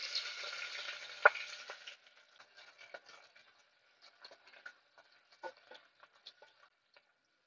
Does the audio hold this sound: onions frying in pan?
yes